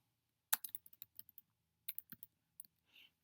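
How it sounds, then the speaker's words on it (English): Typing on a computer keyboard in two short bursts of close, crisp key clicks separated by a brief pause, with a faint soft rustle at the end and no voices. "And then I went and started typing them in."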